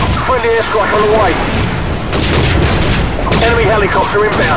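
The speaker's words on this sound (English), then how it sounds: "Friendly airstrike on the way." Friendly airstrike in Call of Duty 4 on Xbox 360 on the Downpour map, heard as heavy booming explosions and rapid gunfire in loud bursts, with game voice callouts over them.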